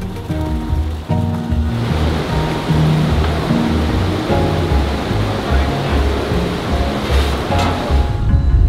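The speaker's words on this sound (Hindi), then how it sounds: "ये ब्यूटीफुल पानी।" Water rushes steadily beside a dangerous mountain road, a loud, continuous broadband roar that never lets up across the whole stretch.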